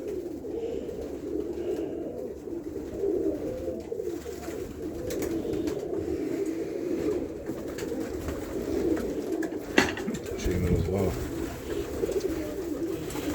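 Soft, repeated cooing of several pigeons in a loft, low and throaty, overlapping in a steady murmur with faint rustling and a brief knock.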